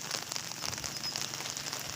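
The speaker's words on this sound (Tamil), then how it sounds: "சாரல் மழை தான் பெய்துக்கிட்டு இருக்குது" Light drizzle falls in Tirunelveli beside a tent with water pooling in front, a steady, even hiss of fine rain with soft scattered patter continuing throughout.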